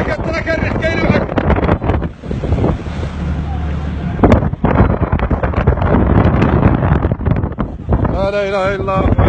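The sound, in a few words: wind blowing on a fishing boat at sea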